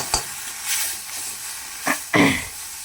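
Fish roe frying with ground spice paste and chilli paste in a pan, giving a few short scraping stirs and a burst of sizzle near the end, close and fairly loud with quiet gaps between.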